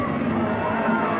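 Parochial home crowd at a 1993 rugby league match cheering as the Canberra Raiders run out onto the field against the Sydney City Roosters, a loud, steady roar with commentary over it.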